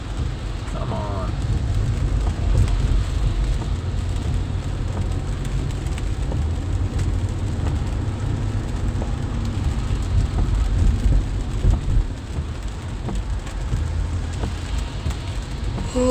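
Steady rain and road spray wash over the sound of St. Louis traffic on a rainy day, with a low, constant vehicle rumble heard from inside a car, unbroken for the whole stretch.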